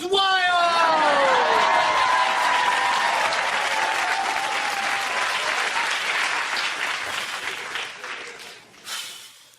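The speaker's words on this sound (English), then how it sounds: "the crowd goes wild!" A crowd at a sporting medal moment bursts into wild applause and whoops, loud and continuous, with a short shout near the start, before the clapping fades toward the end.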